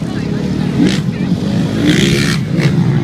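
A motocross motorcycle engine revs hard during a jump at the Cheshire Show 2014, with rising and falling throttle bursts close by. A commentator talks over it throughout.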